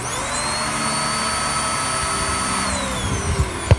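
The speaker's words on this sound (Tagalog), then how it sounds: "Stay away from the tree trimmer." A tree trimmer runs with a steady, loud motorized whine and drone, unbroken for several seconds before a couple of short knocks at the end.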